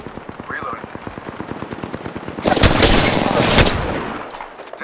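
Rapid automatic gunfire in Apex Legends, a steady stream of evenly spaced shots followed by a louder burst of heavy fire and impacts, close and prominent.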